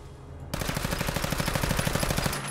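Submachine gun fire in a video game starts abruptly and runs as one rapid, evenly spaced automatic burst of roughly twenty loud shots, then cuts off.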